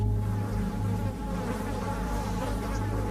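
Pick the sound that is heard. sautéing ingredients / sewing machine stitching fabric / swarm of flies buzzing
swarm of flies buzzing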